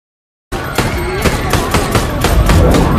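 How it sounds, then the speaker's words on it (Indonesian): After a brief silence, rapid bursts of loud gunfire crackle repeatedly in a film scene, like a sustained exchange of shots. "di tengah gempuran tembakan yang dilepaskan oleh anak buah Adriana"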